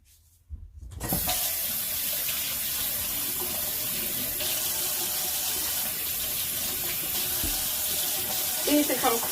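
Makeup spoolies are scrubbed with bar soap under a running tap; after a brief quiet start the water gushes on and runs in a loud, steady hiss into the sink, with small splashes near the end.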